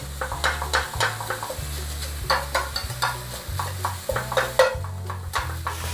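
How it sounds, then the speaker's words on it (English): Chorizo sizzles in a frying pan, a steady crackle under repeated stirring and clinking scrapes of a utensil against the pan, close and fairly loud. "You can hear the sizzle on the pan right now."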